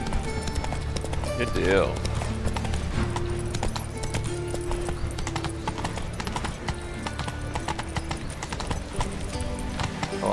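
The horse Roach gallops in The Witcher 3 video game, a steady, fast clip-clop of hooves that runs the whole way under background music, with a brief whinny early on and someone speaking a few words.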